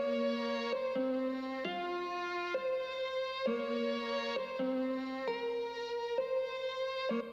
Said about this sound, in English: the first thing I started with was this mellotron string, and it sounds sort of just like a flute, and I just made like a little melody off that